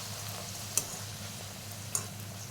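Luchi, Bengali puffed flatbread, deep-frying in hot oil, a quiet steady sizzle with two small ticks or taps, with no speech.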